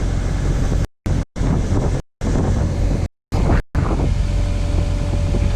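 Strong wind buffets the microphone outdoors during a backhoe digging project, a loud continuous roar cut by several brief dropouts.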